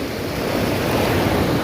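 Water rushes at Perunthenaruvi waterfall in Kerala as a loud, dense, continuous roar with no pauses and no voices.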